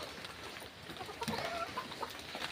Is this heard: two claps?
no